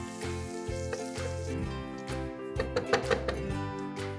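Turmeric, red chili, coriander and garam masala powders fry in a pot for pressure cooker biryani, a soft sizzle under a steady low hum, with a few clustered knocks and scrapes of stirring toward the end.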